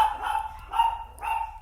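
A dog barks three times in quick succession, close by and fairly loud, over a low background rumble.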